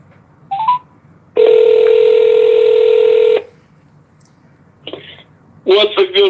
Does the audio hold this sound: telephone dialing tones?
yes